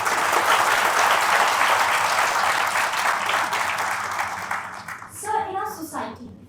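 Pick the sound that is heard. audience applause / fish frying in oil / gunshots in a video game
audience applause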